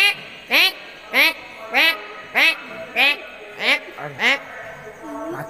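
A duck quacks about eight times at an even, steady pace. Each loud, nasal call stands apart, with short gaps of quiet between them.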